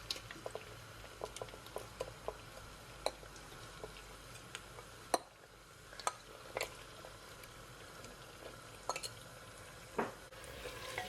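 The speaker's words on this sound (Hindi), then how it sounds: "एक से 2 मिनट के लिए हम गोश्त को भून लेंगे" Half a kilo of bone-in mutton sears in a pot for Arvi Gosht, a soft steady sizzle broken by scattered stirring clicks and scrapes, quiet and close, with no talk.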